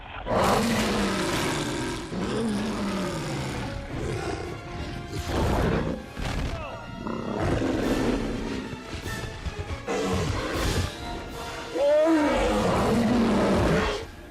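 Kron, the villainous dinosaur in Disney's animated film Dinosaur, gives loud, tiger-like roars, several deep rasping bellows in a row broken by crashing impacts, with no talk over them.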